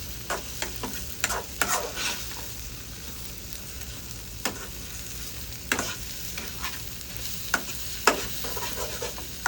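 Pad thai with shrimp stir-fried in a pan: a low steady sizzle broken by repeated scraping and clattering strokes of a spatula, close and with no talking.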